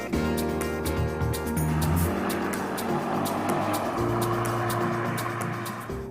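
A Peugeot 308 GTi drives on an asphalt track, its engine a steady, loud drone from inside the cabin with shifting pitch as it accelerates and changes gear, no talk over it.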